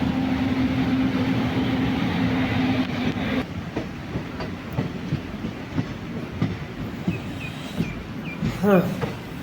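A passenger train running from Thiruvananthapuram to Kollam rumbles and hums steadily, then settles into a rhythmic clickety-clack of wheels over rail joints, heard from inside the carriage, with a brief squeal near the end.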